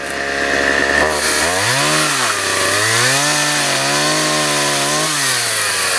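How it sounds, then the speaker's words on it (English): A chainsaw runs loud and close, its engine pitch rising and falling repeatedly as it bites into wood, with no voices. "doing with a chainsaw"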